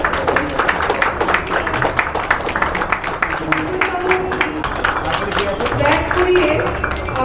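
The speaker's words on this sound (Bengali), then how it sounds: "একটা জোরে হাততালি হয়ে যায়।" Loud applause at a photography exhibition in Kolkata as a guest is welcomed: a crowd clapping steadily and densely for several seconds, with a voice speaking over it.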